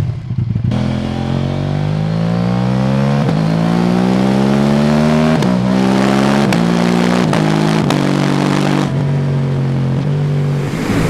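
A KTM 790 Duke motorcycle engine roars loudly and close, revving up through repeated rising pulls with shifts and brief drops in pitch, alone with no talking.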